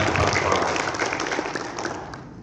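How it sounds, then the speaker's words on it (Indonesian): A room of workshop attendees applauds teachers and school principals: dense, lively clapping from a sizeable crowd, close and strong at first and slowly tapering over a few seconds. "tepuk tangan untuk Bapak Ibu guru dan para kepala sekolah."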